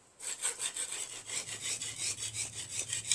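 A homemade grass scraper scrapes under a deck, giving steady, rhythmic rasping strokes that repeat about every quarter second, close and moderately loud.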